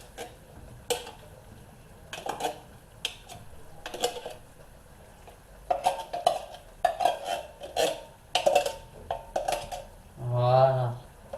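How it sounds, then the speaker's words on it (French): A spoon scooping drained green beans into a salad bowl gives a series of sharp, close metallic taps and clinks, scattered in irregular bursts, with soft handling noises between them. "je prends la cuillère pour mettre dans le saladier les haricots verts"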